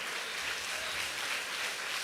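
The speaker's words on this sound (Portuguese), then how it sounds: "E aplauda ao Senhor." A church congregation applauds at a worship service, steady, dense clapping from many hands filling the room evenly throughout.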